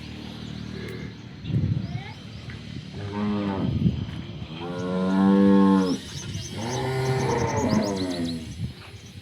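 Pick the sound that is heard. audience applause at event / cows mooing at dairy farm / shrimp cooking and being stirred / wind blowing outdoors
cows mooing at dairy farm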